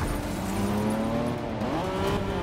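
A race car engine drones loudly and steadily in the video game Forza 6, its pitch holding then rising as it accelerates, with a brief shift midway and a continuous close roar.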